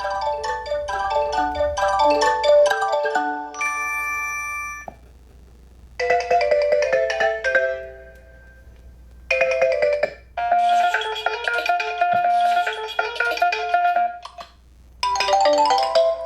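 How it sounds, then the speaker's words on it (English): Several Meizu MX5 smartphone ringtones play one after another, bright melodic chimes and tonal jingles in separate bursts with short pauses between them, loud and close with no talking. "Let's go into phone ringtones."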